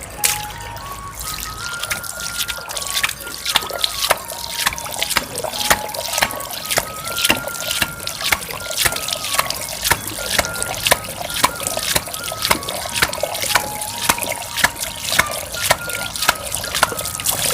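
Water is splashed onto wide-open eyes over and over in a steady, quick rhythm, each close wet slap repeating evenly, with a faint tonal whistle running underneath.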